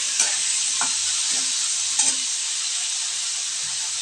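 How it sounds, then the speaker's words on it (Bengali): Vegetables, including eggplant, sizzle steadily in a hot pan, a constant bright hiss with a few soft scraping stirs. "এটা বেশ ভাজা ভাজা হয়ে যাচ্ছে"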